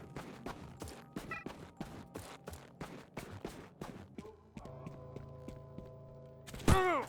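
Gunfire in the shooter Stalcraft, inside a school building: a quick run of sharp, fairly quiet shots in uneven rhythm, then a ringing hum and one last louder burst at the end.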